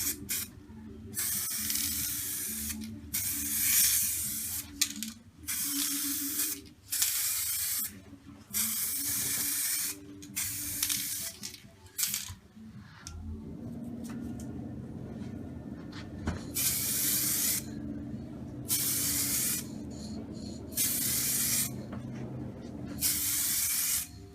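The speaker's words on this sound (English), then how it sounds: "The next process now is to apply the matte to black lacquer, which will give us that lovely matte OE appearance" An aerosol can spraying matte black lacquer onto a steering wheel during refurbishment, close bursts of hissing spray repeated in rhythmic passes, with one longer steady spray in the latter half.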